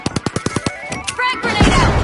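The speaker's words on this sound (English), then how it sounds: "Frag grenade out!" Rapid burst of gunfire in The Finals game, a string of sharp evenly spaced cracks followed by a heavier rumbling blast from a frag grenade, loud and close with no talking.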